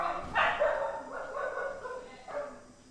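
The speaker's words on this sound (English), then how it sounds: "So Lanta, even though she's quite small, she's a dominant dog." Small dog at an animal welfare shelter barking a few short, sharp yips, fairly quiet and spaced across a brief moment.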